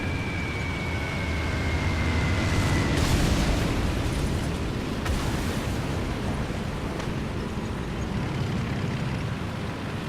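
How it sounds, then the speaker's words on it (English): Bombs go off in War Thunder gameplay during a night fight with an NB.FZ. Neubaufahrzeug tank: a deep, sustained rumbling roar with a sharp blast a few seconds in and fainter thuds after, no talking. "Ah, bombs!"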